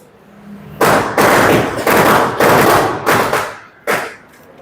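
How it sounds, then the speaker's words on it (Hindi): A rapid string of loud, sharp firecracker bursts, about six sharp cracks in irregular succession, each leaving a brief noisy tail, close by with no talking. "पटाखे बहुत लेके आए हैं, बहुत खर्चा करा है इन्होंने"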